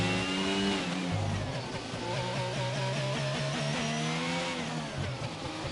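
A Red Bull Formula 1 car engine in a racing video game, a high-pitched whining roar that rises and falls through gear changes as the car passes, loud and steady.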